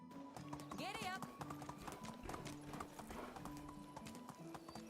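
Horse hooves gallop in the Medieval Dynasty video game, a quick, steady clip-clop rhythm close by, with a short whinny early on and a voice speaking over the hoofbeats.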